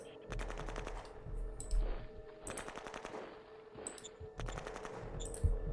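Bursts of gunfire from a regular attack in the Shadow Empire strategy game crackle in three or four rapid machine-gun volleys, moderately loud and spaced a second or so apart, with no talk over them.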